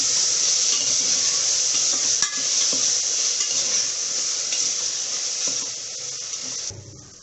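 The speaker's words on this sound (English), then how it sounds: "Now give it a good stir." Steady stirring and sizzling of peas pulao cooking in a pot, a continuous bright scraping hiss with small clinks, easing off near the end.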